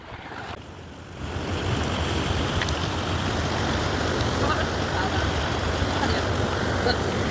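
A river flows near Barvi Dam at Asnoli village with a steady, broad rushing of water that swells in after a quieter first second and then holds evenly close by.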